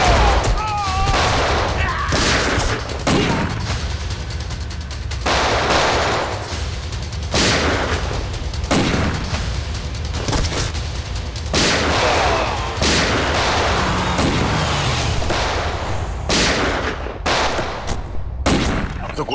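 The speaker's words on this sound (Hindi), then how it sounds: "तो गोलियां चल रही हैं" Rapid bursts of gunfire crack and echo repeatedly, sharp loud shots in quick volleys with brief gaps between them, over a tense dramatic background.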